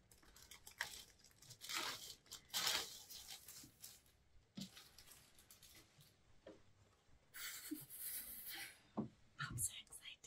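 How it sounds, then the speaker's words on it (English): YouTube 100,000-subscriber award plaque pulled from its packaging, with repeated tearing, crinkling and rubbing of wrapping in uneven bursts, close and fairly quiet. "let me remove it from this packaging"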